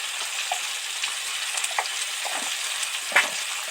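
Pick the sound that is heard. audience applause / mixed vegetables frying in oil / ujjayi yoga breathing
mixed vegetables frying in oil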